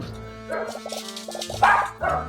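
A dog barks in quick repeated bursts of yips and woofs, close and fairly loud, with a few short clusters across the moment and no talking over it.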